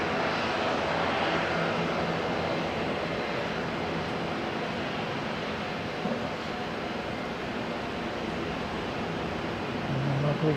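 A fixed-wing airliner at Auckland International Airport, bound for Napier, drones steadily with broad roaring engine noise at moderate distance, holding fairly even for the whole stretch.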